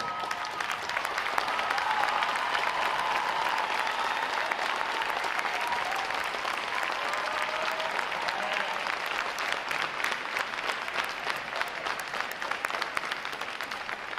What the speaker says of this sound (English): would all our veterans please stand so we can give you a round of applause as well?